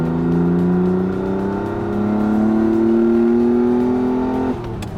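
A Ferrari 365 GT4 BB engine holds a loud, steady, rising rev for several seconds, then drops sharply off throttle near the end.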